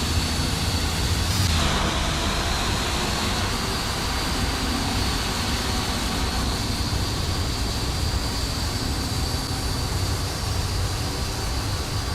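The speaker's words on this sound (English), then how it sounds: "Both engines running normal indication." Twin engines of a Boeing 787 running in a flight simulator game, a constant loud broadband roar with a steady high whine, unchanging throughout and with no speech.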